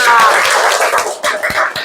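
Young schoolchildren in a classroom religious lesson clap together, a short burst of scattered, fairly close hand claps with some voices mixed in.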